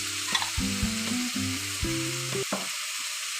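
Cauliflower and pea curry with chopped tomatoes and salt gets stirred in a pan, a run of close scraping strokes over a soft sizzle, with no voices.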